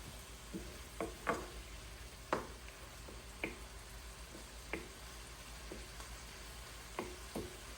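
A spoon stirs chicken and shrimp pasta in a pan, making soft scattered clicks and scrapes against the pan over a faint, quiet sizzle, close by with no talking.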